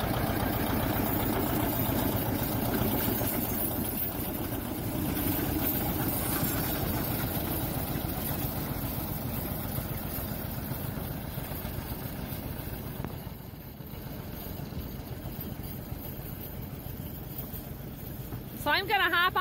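A John Deere 720 tractor engine running in an oat field, a steady low throbbing idle that continues evenly for nearly twenty seconds, close and fairly loud, with a brief voice near the end.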